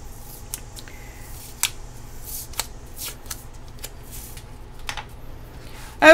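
Scissors snipping paper for a vintage mixed-media journal, a series of short, close, sharp cuts at irregular intervals over a quiet background, ending in a louder handling noise.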